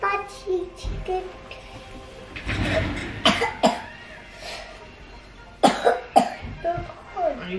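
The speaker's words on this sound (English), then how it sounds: "Are you coughing in my face?" A child coughs several times in short bursts amid light chatter and background voices, close to the microphone.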